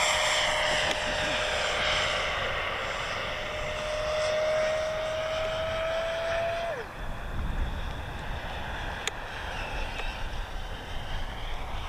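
An RC F-16 model jet flies past with a steady, loud turbine whine and wind rush; the pitch holds and then drops abruptly partway through, leaving a quieter roar.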